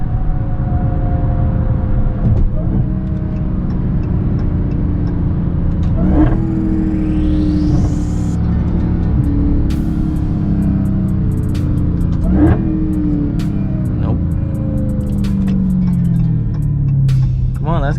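A 2020 Dodge Charger Hellcat Widebody rumbles heavily from inside the cabin, with a few sharp rev blips as it downshifts, its supercharger whine rising briefly, under a steady low drone.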